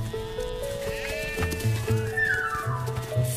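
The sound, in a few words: sheep bleating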